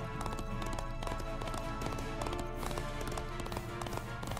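Horse hooves clip-clop in Disney Infinity while riding a horse through a Maleficent's Castle level, a steady rhythmic patter of taps under dense game music, close and fairly loud throughout.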